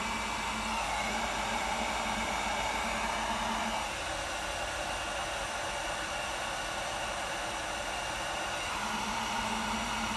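A heat tool blows steadily while warming the intake tube of a Ford Explorer ST, a continuous loud airy rush like a hair dryer that holds for about ten seconds with only slight shifts in tone.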